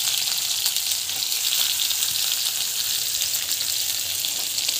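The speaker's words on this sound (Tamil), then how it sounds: "இது வந்து நல்லா ஃப்ரை ஆகிட்டுருக்கு. ஆனியன் நல்லா போட்டுக்கோங்க." Onion and green chilli frying in hot oil for aval upma, a steady, dense, close sizzle with faint crackles, continuous and without talk.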